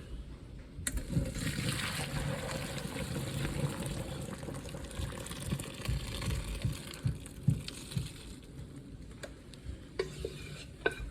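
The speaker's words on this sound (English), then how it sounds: "I'm going to go ahead and strain into a colander" Cooked noodles and their hot water pour from a pot into a colander, giving a steady rushing, splashing stream for several seconds with a few clinks near the end.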